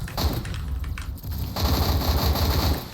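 Rapid automatic gunfire from an M14 or M21 rifle in a Roblox shooter, a close, loud burst of fast rattling shots that intensifies in the second half.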